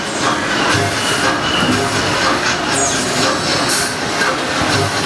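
A trolley train on the Cat in the Hat ride at Islands of Adventure rolls along with a steady loud rumble and hiss, plus faint wheel squeals and clacks, and no talking.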